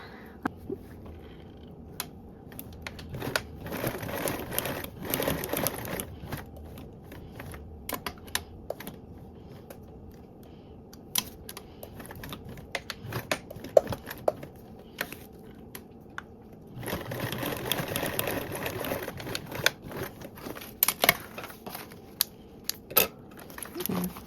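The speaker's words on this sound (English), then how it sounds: "I'm going to sew 2 rows of stitches." A sewing machine stitches two rows along the side of a pocket, running in two long, steady bursts separated by a quieter pause with light handling sounds.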